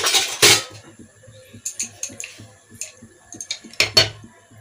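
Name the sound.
peanuts added to a hot pan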